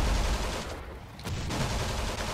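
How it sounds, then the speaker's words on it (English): Enemy machine gun fire in the tank game Steel Fury, a loud, dense, continuous rattle of rapid shots with a short dip before the burst resumes. "the enemy seems to have a machine gun somewhere."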